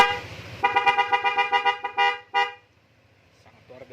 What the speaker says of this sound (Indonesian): sekarang kita tes klaksonnya